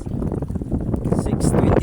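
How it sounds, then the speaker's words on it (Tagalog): Strong wind roars steadily across open water beside a small fishing boat before dawn, a dense, gusty rush close to the microphone with voices talking through it. "sobrang lakas ng hangin"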